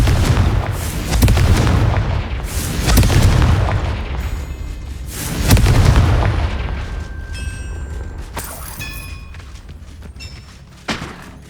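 Confringo spell explosions in the Hogwarts Legacy video game: loud booming blasts with heavy low rumble, several bursts in the first half fading into scattered magical chimes and a sharp thump near the end.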